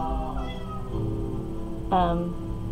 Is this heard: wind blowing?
no